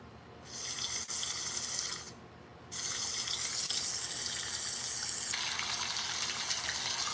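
Rainwater gushes and splashes off a surface in Arizona after a severe thunderstorm. The rush is a steady broadband wash that briefly drops out twice and then holds loud and constant, with no talk over it.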